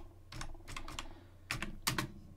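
Quick typing of a command on a computer keyboard, entering a virtual environment name at a server command line: a few short clusters of close, crisp key clicks with brief pauses between them, no voices.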